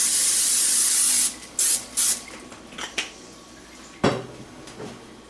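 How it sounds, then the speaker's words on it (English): Cooking spray hisses into a large baking dish in a home kitchen, a long spray burst followed by a few short puffs, then light clinks of the dish, close and fairly quiet. "then you want to get you a large baking dish. Make sure you spray it."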